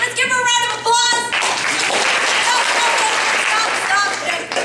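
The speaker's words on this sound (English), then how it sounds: "Let's give her a round of applause." Loud, dense applause from an audience at a stage performance, a sustained wash of many clapping hands beginning after a brief spoken voice and continuing steadily to the end.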